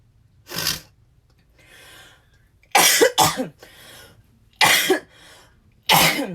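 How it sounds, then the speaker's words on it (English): A woman coughs in several sharp bursts, some doubled, separated by pauses with faint rustling; close and loud, no talking. "I'm going to be coughing tonight"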